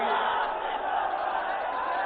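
A dense crowd roars and shouts continuously at a Samajwadi Party political rally for Akhilesh Yadav, a broad, sustained wall of cheering voices without pause.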